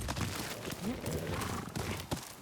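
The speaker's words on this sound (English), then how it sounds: "There you are, horse." A horse in the video game Ghost of Yotei neighs and whinnies over a soft clatter of hooves, close and fairly loud across a brief stretch, with a little speech mixed in.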